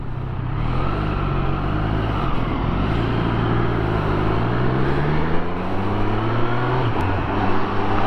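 A Triumph Street Triple 765 RS in track mode pulls hard, its engine note climbing and dropping through gear changes, loud and close under a constant rush of wind and road noise.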